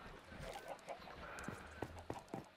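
Chickens in the video game Minecraft cluck in short, repeated bursts scattered across the clip, sharp and close, over a busy layer of game sounds.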